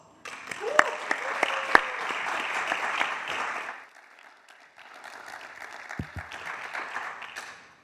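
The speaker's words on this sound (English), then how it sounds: "Let's give them a warm round of applause" An audience at a talk applauds warmly, a full burst of clapping with a few sharp individual claps that fades out midway, then a second softer, sparser round of clapping follows.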